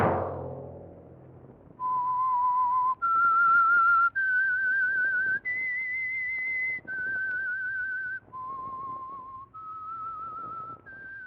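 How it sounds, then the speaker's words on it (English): Theme signal of The Whistler radio mystery show: a clear, solo melodic whistle of about eight sustained notes, rising and falling, following a fading low tone at the start. "Let that whistle be your signal for the Signal Oil program, The Whistler."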